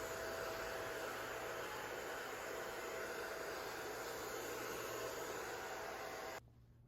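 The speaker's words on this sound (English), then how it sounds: "Now we're going to use the hair dryer to apply product." A hair dryer blows continuously at a barbershop fade haircut, giving a steady, bright rushing hiss with a faint whine that holds for several seconds before cutting off abruptly near the end.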